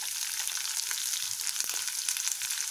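Onion and garlic frying in a pan for Kannada-style radish chutney, a bright continuous hiss of sizzling oil with a few faint stirring taps, close and alone.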